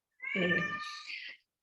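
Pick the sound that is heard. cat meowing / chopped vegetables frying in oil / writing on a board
cat meowing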